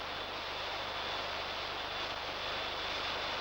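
A British Avro Vulcan bomber carrying the Olympus jet engine under test gives off a steady, broad, roaring jet rumble that holds constant and fairly loud throughout, with no voices.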